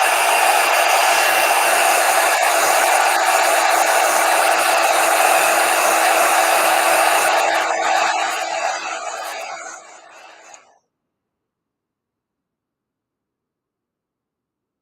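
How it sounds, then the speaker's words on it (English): A heat gun blowing hot air to dry ink on a Pantone card, a loud steady rushing whoosh held for several seconds before winding down and cutting off into silence. "let me hit it with a heat gun real quick"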